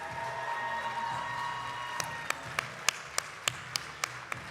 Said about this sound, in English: one massive round of applause for our newest Chairman's Club